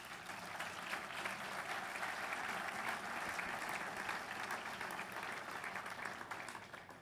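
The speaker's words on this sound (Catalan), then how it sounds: "Un aplaudiment per ell, si us plau." Steady applause from an audience at an awards ceremony for magazines, a dense even clatter of many hands sustained throughout, moderately near with no talk over it.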